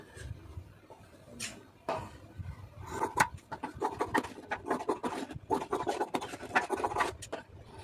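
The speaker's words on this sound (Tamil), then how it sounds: "இப்போ அவ்வளோதான் முன்பாக வரைஞ்சாச்சு அதை கட் பண்ணிக்கலாம்" Scissors cut blouse fabric along a drawn armhole line, making repeated close, soft rasping snips and scratchy rubbing sounds in quick uneven bursts.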